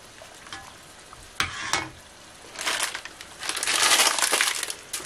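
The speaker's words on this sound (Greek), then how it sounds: "Ανακατεύουμε λίγο το νερό." Water being stirred in a cooking pot with garlic cloves added, giving intermittent swishing and scraping bursts that grow denser toward the end, fairly close with no talk.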